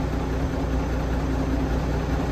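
A 150 horsepower turbocharged tractor engine idles steadily, a low, even diesel rumble that stays constant throughout with no talk.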